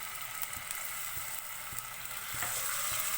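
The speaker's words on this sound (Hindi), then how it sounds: "लहसुन अदरक को मैंने ऑयल में फ्राई कर लिया है।" Garlic ginger paste fries in hot oil in a pan for white sauce pasta, a steady close sizzle with occasional soft stirring clicks and scrapes.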